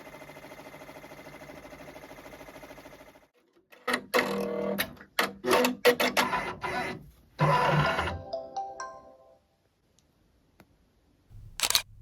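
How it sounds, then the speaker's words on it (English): An embroidery machine stitches out lettering with a fast, even mechanical chatter for about three seconds, then stops. Scattered handling clunks and clicks follow, and near the end there is a short burst. "So I'm going to stitch that out really quick."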